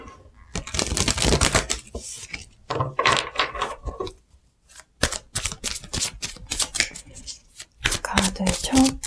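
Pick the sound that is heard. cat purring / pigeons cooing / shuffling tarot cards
shuffling tarot cards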